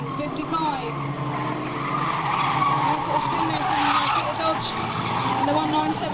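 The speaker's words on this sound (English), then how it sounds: "Nice little spin there from Peter" At Fleet Raceway, a race car spins out on the track with a sustained tyre squeal and skid. A commentator talks over the sound throughout.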